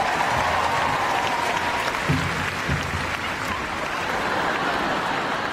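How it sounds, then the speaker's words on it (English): An arena crowd at Crufts 2018 gives sustained applause and cheering for Tornado, a dog from the RAF display team, a thick roar of clapping that holds steady throughout. "A big cheer for Tornado!"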